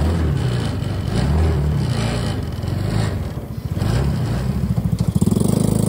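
The small engine of a mini Jeep 125 runs close by, a low, lumpy putter that wavers unevenly, dips, then settles into a faster pulsing rhythm near the end.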